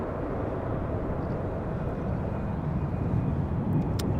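An airplane climbs after takeoff at Amsterdam Schiphol Airport, making a steady, broad engine roar that holds at a constant loud level throughout.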